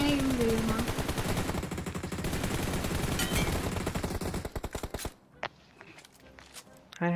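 Rapid bursts of automatic gunfire in the mobile battle royale game PUBG Mobile, crackling in dense volleys that thin out into scattered shots, with players' voices talking underneath.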